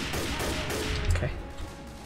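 Gunfire in Left 4 Dead 2 during a playroom finale, a dense burst of rapid shots with a heavier hit midway, loud and close, over continuous game background noise.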